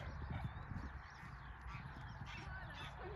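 Several geese honk faintly in an outdoor field, a scattered series of short calls overlapping at a distance amid low background rumble.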